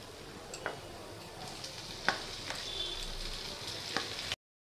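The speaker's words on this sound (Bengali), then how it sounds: "তো পেঁয়াজ আর লঙ্কাটা ভাজা ভাজা হয়ে গেছে। এখন আমি ওলটাকে দিয়ে দেবো।" Onion and green chili frying in hot oil with pieces of elephant foot yam, a soft steady sizzle with a few sharp stirring clicks and scrapes, close and fairly quiet, no talking.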